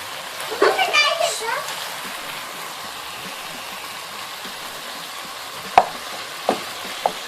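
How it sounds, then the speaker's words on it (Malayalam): Fried cauliflower for gobi manchurian tips into a pan with a soft sizzling clatter, then low steady frying hiss and a few sharp spatula knocks, while a voice talks over the start. "ഇനി നമുക്കിതിലേക്ക് ഫ്രൈ ചെയ്ത് വെച്ചിരിക്കുന്ന കോളിഫ്ലവർ ചേർത്ത് കൊടുക്കാം"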